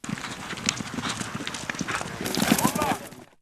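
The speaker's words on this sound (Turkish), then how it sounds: "Atlar peş peşe kayarak düştü." Horses' hooves clatter and thud on icy ground during a cirit match in Bayburt, a dense busy patter of many hoofbeats with crowd noise and someone talking over it, swelling louder near the end.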